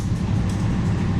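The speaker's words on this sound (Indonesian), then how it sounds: "Kereta api Sri Tanjung sudah tiba di jalur 2 stasiun Pasuruan." Sri Tanjung passenger train standing at Pasuruan station, a steady low rumble of engine and rolling stock that fills the platform without a break.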